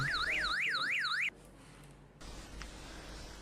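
An electronic anti-theft home alarm prototype built by students sounds a loud warbling siren that sweeps up and down rapidly, then cuts off abruptly, leaving quiet room noise.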